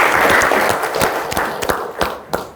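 An audience at a Ghana Digital and Innovation Week panel discussion applauds, loud at first and tapering off, with a few sharp individual claps standing out near the end.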